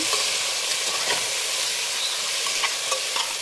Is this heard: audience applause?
no